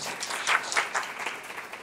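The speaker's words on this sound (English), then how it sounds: "Give her a big warm applause," Brief burst of warm audience applause at a presentation event, dense clapping from a crowd held at a steady level for under two seconds.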